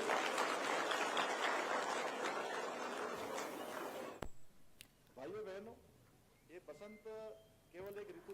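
Audience applause at a Holi Milan celebration in Kashipur, Udham Singh Nagar: a dense, steady wash of clapping for about four seconds, then cutting off as a voice speaks.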